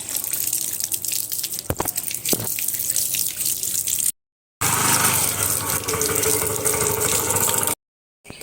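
Running water splashes and patters while hair is rinsed during washing, a close, continuous wet hiss with small drips and knocks, cut by two brief silences.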